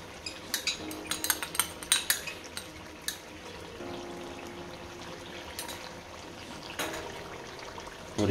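Cream is stirred into white chicken karahi in a pot, a spoon clinking and scraping against the metal in a quick run of sharp knocks, then softer wet mixing and a few more clanks, fairly close and without talk.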